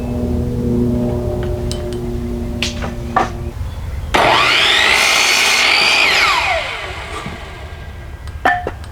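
A power saw slices through a 1x1 wooden board for a raised garden bed: a loud, close whining cut lasting about two seconds, then the motor winds down, framed by scattered knocks and handling clatter.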